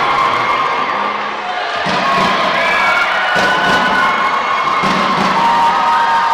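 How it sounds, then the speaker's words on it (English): Crowd of home supporters cheers and applauds as the Leo the Lion mascot enters a gym during a girls' schools basketball league final, a loud, continuous roar with shouts throughout. "Leo the Lion enters the building to rapturous applause from the Longford faithful"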